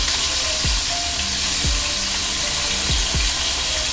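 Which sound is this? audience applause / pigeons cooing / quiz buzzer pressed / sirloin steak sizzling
sirloin steak sizzling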